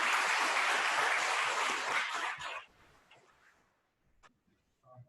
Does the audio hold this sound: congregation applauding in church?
yes